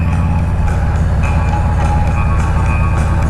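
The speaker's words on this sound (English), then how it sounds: "Oh, got choo-choo train." A train rumbles past as a steady, loud low drone with rhythmic rail clatter, heard from a vehicle on a road near the tracks, with no talking.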